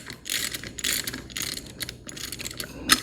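A hand ratchet tightens the deck belt tensioner on a John Deere Z920M mower in quick, crisp bursts of clicking, close up, with short pauses between strokes.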